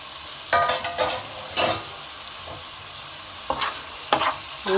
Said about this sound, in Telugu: అన్నీ ఒకసారి అలా కలిపేసి